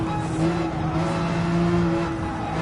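A race car engine held at full throttle in Gran Turismo 7, a steady sustained drone with a constant pitch and no pauses.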